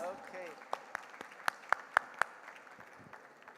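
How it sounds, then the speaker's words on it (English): Sparse applause from a small audience at a startup conclave award ceremony in Mumbai, a handful of distinct claps scattered over a few seconds against a quiet room, with brief voice at the start. "One more round of applause, please."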